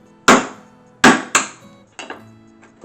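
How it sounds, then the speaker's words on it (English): A hammer punches holes into the bottom of a metal can, with four or five sharp knocks in an uneven rhythm, heard close and fairly loud with no talking. "I'm just gonna punch some holes through."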